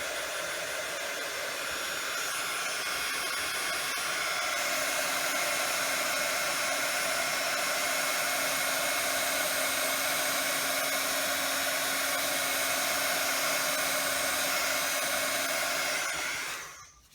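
Electric heat tool blowing steadily to melt embossing powder on a handmade Christmas card, a loud continuous whirring hiss that holds for about sixteen seconds before switching off.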